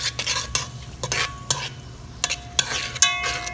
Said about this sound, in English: I'm gonna stir this up a little bit.